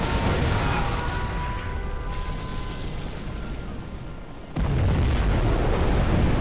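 A deep, continuous roar from a nuclear missile strike in a strategy video game fills the scene, easing slightly before a fresh loud surge of blast noise swells back in near the end.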